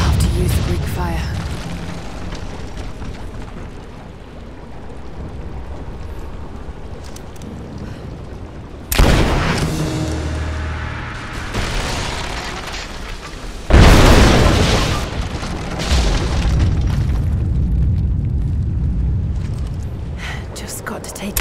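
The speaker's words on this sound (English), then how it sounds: "Looks like I'll have to use the Greek fire." Greek fire blasts in Rise of the Tomb Raider bring down an unstable statue's supports: two loud, sudden booms with rumbling debris roll over ambient wind and water, with a voice speaking between them.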